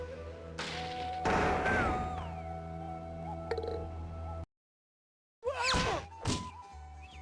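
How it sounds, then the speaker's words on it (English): A tree stump is thumped in a Carmen Sandiego video game, giving dull thunks amid a steady electronic game backdrop, broken by a brief silence before a final pair of sharp hits. "Put your shoulder behind it and give that stump a solid thump."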